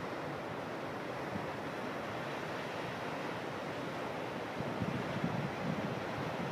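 Steady roar of ocean surf with swells and 3 to 4 foot waves, mixed with wind buffeting the microphone, a constant broad rush with a slight swell toward the end.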